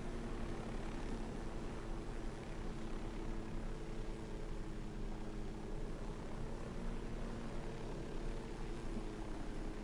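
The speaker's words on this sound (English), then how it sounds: "Jay went up and got the chopper." A helicopter in Ghost Recon Wildlands, a steady low rotor drone with faint engine hum, continuous and fairly quiet throughout, no voices.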